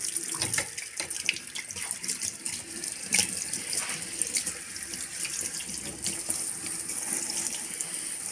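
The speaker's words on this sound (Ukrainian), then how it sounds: "Така легенько-легенько тепла вода." Warm water runs steadily from a newly installed bathroom faucet into a sink, a continuous close hiss and splash with small fluctuations and no talk.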